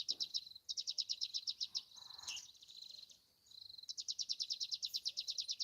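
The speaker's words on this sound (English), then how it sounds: "listen to the beautiful birds now." Birds sing outdoors near sunset, a rapid repeated chirping trill running almost continuously with brief pauses, fairly close and clear against a quiet background.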